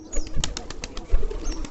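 Giribaz and Lal Chilli pigeons at a pigeon farm make soft, repeated cooing calls close by, with a brief flutter of wings partway through and no one speaking.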